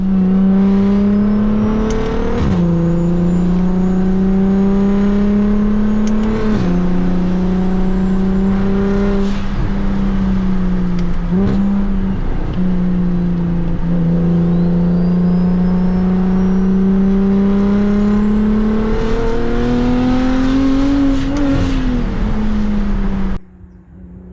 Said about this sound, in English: Car's a little loud up top, so we might throw in a resonator